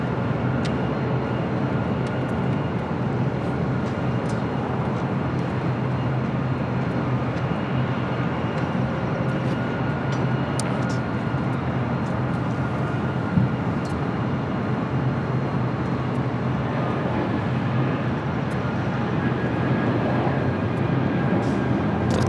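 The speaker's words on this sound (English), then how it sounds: "Lufthansa Queen coming in from Frankfurt. 747-8 Intercontinental." A Lufthansa Boeing 747-8 Intercontinental arriving at LAX from Frankfurt produces a continuous dense jet rumble and hiss that stays level and fairly loud across the whole stretch, with faint tonal whines and no speech.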